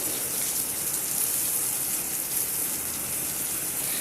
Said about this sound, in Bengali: আমি মিক্সির বাটিটার মধ্যে জল দিয়ে আমি এর মধ্যে জল দিয়ে দিলাম